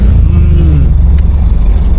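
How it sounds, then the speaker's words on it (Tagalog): Motorcycles weave and speed past in heavy afternoon traffic on a road near Benguet, a steady loud engine drone with one rising-then-falling pass by a nearby bike. "Nabilis yung mga motor, oh."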